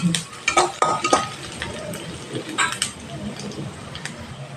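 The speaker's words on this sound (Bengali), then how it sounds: "পেঁয়াজ ভাজা হয়ে গেছে" Onions frying in a pan, soft sizzling with scraping stirs and a few clinks of a spoon against metal, moderately close, in irregular bursts.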